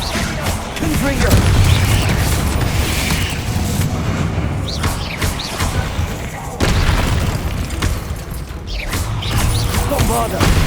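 Confringo fire spell blasts in Hogwarts Legacy, loud booming bursts layered over dense combat noise, with a voice calling out spells amid the repeated explosive hits.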